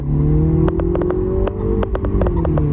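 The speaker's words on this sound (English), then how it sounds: "taking a nice test drive in this 2015 Mini Cooper S model earlier today" A 2015 Mini Cooper S engine hums steadily on a test drive, its tone rising gradually as it revs, heard close from inside the car with several sharp clicks and ticks over the drone.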